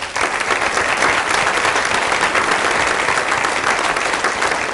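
Sustained audience applause fills the room as a student's family stands at a school gathering, dense steady clapping from start to finish with no voices over it.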